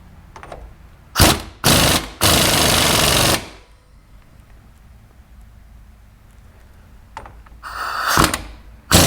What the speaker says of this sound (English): We'll lightly run it on with the impact